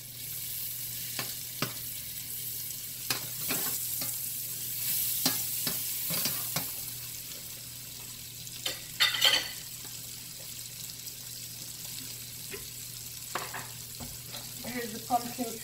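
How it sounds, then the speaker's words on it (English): A medium onion sautéing in a pan gives a steady, soft sizzle throughout, with scattered stirring scrapes and clicks near the microphone and no voices. "I'm going to saute in this pan."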